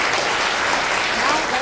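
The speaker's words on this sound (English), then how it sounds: "Let us give warm applause again to welcome the Khenpo" Applause from a class audience welcoming a Khenpo at a university lecture, a dense steady clatter of many hands filling the short stretch with no pause.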